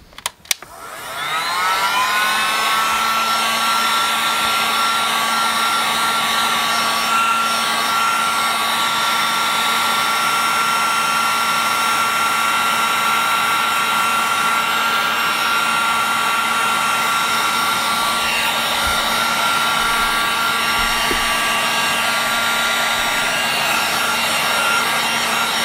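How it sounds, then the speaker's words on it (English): A blow dryer starts up and runs steadily to dry a watercolor painting, giving a loud, constant whirring whine that holds at an even pitch throughout with no talk. "We'll just blow dry a little bit here."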